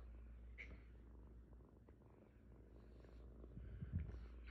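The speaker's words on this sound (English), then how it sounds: "It's purring." A newly adopted cat purrs close up in a steady, very quiet low rumble, with small shuffling sounds and no talk over it.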